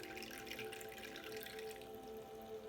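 Water pours steadily into a toy kitchen sink, a soft continuous trickle and splash at close range, quiet and unbroken, with no talking.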